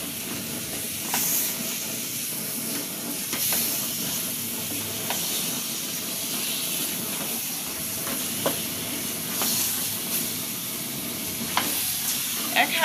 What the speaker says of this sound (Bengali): এখানে মাংসটা বসাই দিছি, আজকে দেরি হয়ে গেছে বিদায় মাংস একবারে বসাই দিচ্ছি। এখন এটা কষাবো ভালো করে।